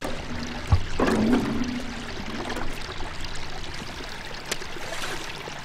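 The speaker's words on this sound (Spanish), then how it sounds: "Esta agua se escucha que se está revoloteando cuando corre mi caballo." Water churns and splashes as a horse runs through it, with a sharp burst of sloshing near the start and then softer trickling and swirling.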